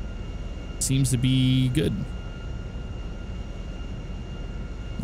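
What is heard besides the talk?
HA-420 HondaJet engine landing, from video game GTA 5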